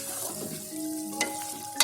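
Turmeric mixed into a Shinwari lamb (dumba) karahi in a pan: a brief spell of close stirring with a couple of scraping clicks over a gentle frying hiss.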